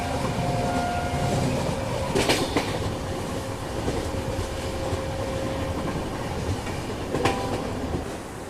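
The Trivandrum Rajdhani Express runs on the Konkan railway on a rainy morning toward Madgaon, giving a steady close rumble with clicking wheels and two sharper clanks over the joints.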